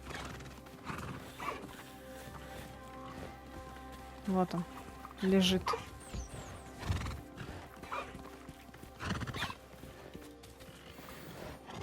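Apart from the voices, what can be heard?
horses neighing in video game Hogwarts Legacy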